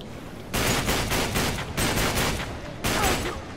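Sustained Uncharted 3 gunfire comes in loud, dense bursts of rapid shots, three separate volleys with brief lulls between them and no speech over the top.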